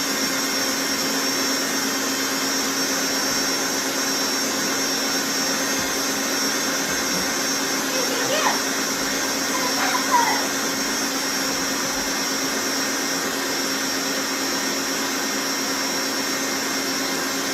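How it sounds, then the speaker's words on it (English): A blender whirs steadily as it blends two cups of extra creamy dairy-free milk, a loud continuous motor drone that holds at an even level throughout. "And just blend this, but not for as long."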